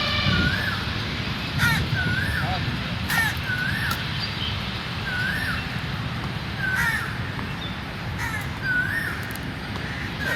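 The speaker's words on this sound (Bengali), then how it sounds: "প্রচুর পাখির ডাক শোনা যাচ্ছে।" Crows caw repeatedly over a constant outdoor hum at Ramna Lake in Dhaka, with other birds calling; the harsh caws come every second or so at moderate distance, fairly loud and with no talking.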